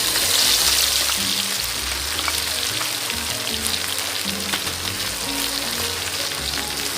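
Garlic sizzles in hot oil on a stovetop for Thai fried liver with chili and salt, a dense steady frying hiss with crackles running throughout, close and fairly loud, with no talking.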